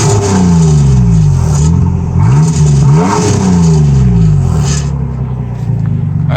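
A 2001 Nissan Xterra with a straight-piped exhaust is revved repeatedly, its loud raspy engine note rising and falling in several close bursts, with no talking.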